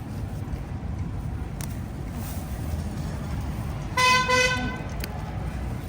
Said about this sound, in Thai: คนชอบกดแตรก็กดกดกดแตรที่ถนนนะคะ